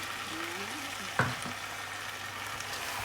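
Tofu sizzles steadily in a hot pan for char kway teow, a constant close frying hiss with one brief clunk as pieces drop or are moved.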